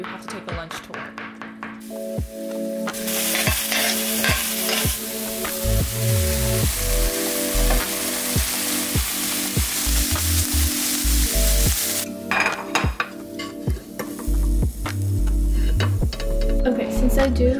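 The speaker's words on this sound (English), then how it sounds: "I made this mushroom, cabbage, onion, garlic saute" Mushroom, cabbage, onion and garlic sauté in a pan with a steady, fairly loud sizzle and occasional stirring scrapes. Some sections sound brighter and more intense.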